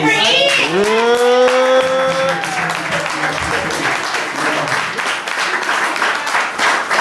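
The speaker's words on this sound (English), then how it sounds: "Can we get a round of applause for Coach ITM, please" Applause and cheering from an event audience for a coach, starting with a loud rising whoop or shout, then steady close clapping that fills the rest of the stretch.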